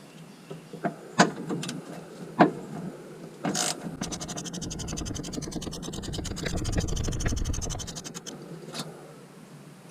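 A ratchet wrench removes a nut from a stud on a 2004 Ford F-250, with rapid, close clicking for several seconds between scattered scrapes and taps in a quiet workspace.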